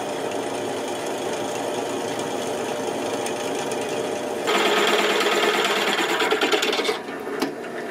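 Power drill boring a 9/16 inch hole in metal for a DIY tilting lawn mower trailer tongue built from a garden cart, a loud continuous grinding whine that rises in pitch midway, heard alone.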